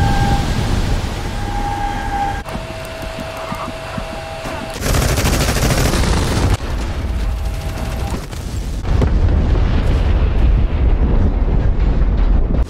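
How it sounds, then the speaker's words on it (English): Bombs dropping and exploding in a combat flight video game, striking a 1980s Soviet tank and SAM battalion: loud sustained rumbling blasts and rattling bursts that swell and recede across the stretch. "Bombs dropping."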